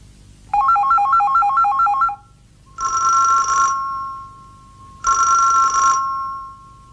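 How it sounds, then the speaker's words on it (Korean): A telephone ringtone plays a quick warbling electronic melody, then two long buzzing rings follow with pauses between them, loud and clear with no voices. "전화는 왜 안 받나요?"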